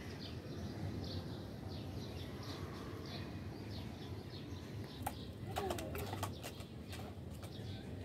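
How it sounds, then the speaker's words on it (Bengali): Pigeons on a rooftop garden coo softly and intermittently against steady low background noise, with some brief wing or movement sounds near the end and no clear talk. "এই যে এখানে কবুতর,"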